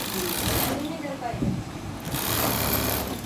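A three-needle sewing machine runs steadily, stitching three parallel seams down the side of trousers in a small workshop, with people talking nearby over the mechanical hum.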